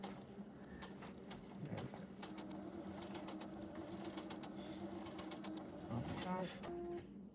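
A sewing machine stitches bias tape cut from fat-quarter fabric, running as a steady rapid mechanical whir with clicking needle ticks throughout, and it stays fairly quiet and close under soft talking.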